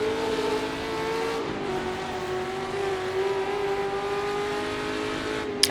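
A racing car from a 1966 British Sportscar Championship race at Oulton Park drifts through a corner in a racing video game, its engine holding a steady loud drone that dips in pitch partway through before rising again, with no talk.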